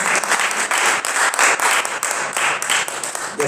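Strong, fast applause from a church congregation at a worship service, with many hands clapping close and loud in a continuous, slightly pulsing stream.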